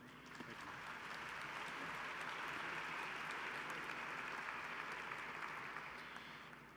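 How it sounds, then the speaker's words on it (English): Audience applause at a Texas Tech University ring ceremony, a broad even clapping from many hands that swells, holds steady and then tapers, heard at a moderate distance with no voices over it. "Let's give her a round of applause."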